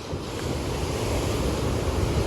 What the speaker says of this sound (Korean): 우와, 파도!